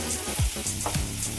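Onions frying in a pan with a pinch of salt for Mangalore-style chicken sukka, a steady close sizzle with a few soft stirring scrapes and no talking.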